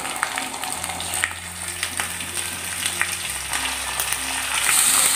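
Ground masala paste of cashews, charoli, peanuts and coconut frying in hot oil for a Khandeshi stuffed chilli bhaji, giving a steady close sizzle with small crackles, under a low hum and with no talk.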